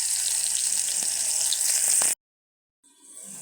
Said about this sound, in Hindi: प्याज माशाल्लाह फ्राई हो रहा है